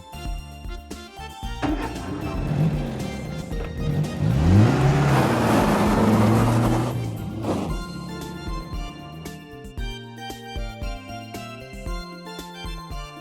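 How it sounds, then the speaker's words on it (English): A 2004 Chevrolet Silverado SS pickup truck engine revs up into a loud, rising roar with a passing rush, then settles back to a lower rumble beneath music. "Two 2004 Chevrolet Silverado SS."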